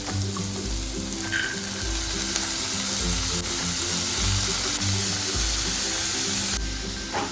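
Soaked chana dal, left in water overnight, hits a hot frying pan with tomato and sets off a loud, steady sizzle, with bursts of stirring and scraping close by.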